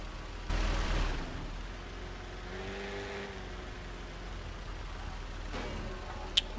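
A car engine in the Car Simulator 2 driving game hums steadily at mid pitch, with a brief louder burst near the start and a rising tonal whine mid-way, no voices.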